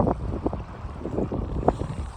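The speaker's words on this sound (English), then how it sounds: "So as I'm going to shore, the wind is picking up" Wind gusts on a choppy lake buffet the microphone of a kayak out on the water, making close, uneven rumbles. Waves slap and splash among the gusts.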